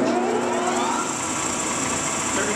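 A Monarch 18x54 metal lathe running on 220 volt power, a steady mechanical hum and whine with rising tonal overtones as it spins up, continuous and close with no talking.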